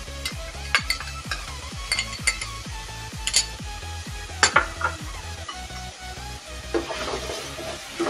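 Onion sautés with ginger-garlic paste in a pot for chicken handi: a spoon scrapes in quick, regular strokes over a steady sizzle, with occasional light clinks against the pot.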